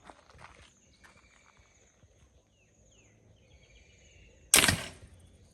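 A handmade slingshot-style fishing crossbow fires an arrow at a target, giving one sharp, loud snap and thwack after a quiet stretch with faint background noise.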